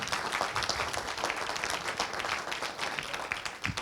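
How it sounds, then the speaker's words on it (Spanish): A church congregation applauds during a Spanish-language sermon, brisk crowded clapping at moderate volume, steady throughout with a few sharper claps near the end. "¿Damos un aplauso al Señor?"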